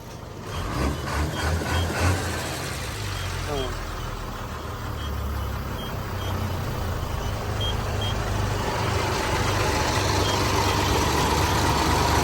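A Hino KT 925 ten-wheel truck engine idles with a steady low diesel rumble throughout, loud and close, while someone talks over it.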